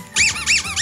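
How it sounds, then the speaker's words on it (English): A rubber slot-machine dog toy squeaks in three quick, loud, high-pitched squeezes, close up and alone. "And you got a little slot machine squeaker. Yeah, that one squeaks too."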